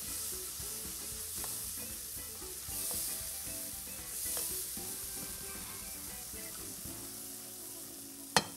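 Masala spices roasting in a pan give a continuous bright sizzle, with soft stirring scrapes and a sharp clack near the end, close and steady.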